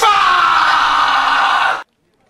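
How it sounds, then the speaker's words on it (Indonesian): A man screams and yells in anger at his coworkers on an office floor, one loud, sustained, strained shout lasting nearly two seconds, then cut off into silence. "Damian pun mulai berteriak dan melampiaskan amarahnya pada semua rekan-rekannya yang berada di lantai 6."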